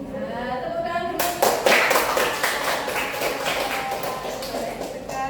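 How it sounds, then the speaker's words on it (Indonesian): Applause for prize winners in a group, a burst of clapping from many hands starting after a voice and continuing steadily, fairly close and filling the room. "Nah, tepuk tangan dulu."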